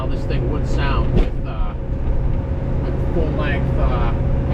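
A Chevelle with a mild cam drives along, its engine giving a steady low rumble throughout, with someone talking over it.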